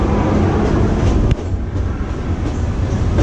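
An amusement park train ride at Cedar Point rolls past woods and water, giving a steady, close rumble of wheels and cars with faint clicks and no talking.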